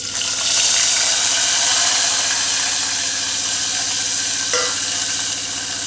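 Curry leaves hit hot oil already holding mustard seeds and cumin, raising a loud, steady, close sizzle that hisses without a break for several seconds.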